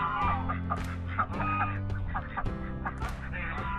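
Farmyard geese and ducks honk and call in a dense, overlapping chorus, close and fairly loud, with repeated harsh bursts over a steady low background, and no talk over them.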